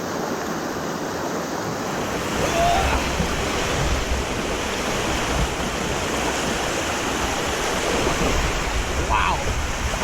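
Freezing water rushes steadily over a natural rock waterslide in a constant, loud, broadband roar with a couple of faint brief voice sounds over it.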